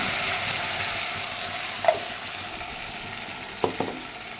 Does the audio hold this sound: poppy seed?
yes